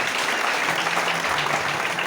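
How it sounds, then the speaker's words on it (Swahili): Applause from a church gathering fills the space, a dense continuous clapping from many hands, loud and steady throughout. "Tuhurire Ngai ucio makofi mega."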